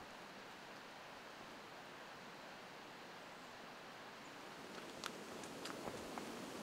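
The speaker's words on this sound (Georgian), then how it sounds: "შორიდან წყლის ხმა ისმის." Distant rushing water of the Lagodekhi river, heard as a faint, steady broadband wash along a mountain trail, with a few soft footsteps or clicks near the end.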